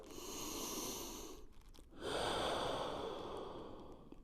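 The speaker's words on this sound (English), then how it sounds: "you would repeat your breath" Slow, deep breaths during a floor-based breathing sequence in a prone position: one long audible exhale, a short pause, then another long airy breath drawn close to the microphone.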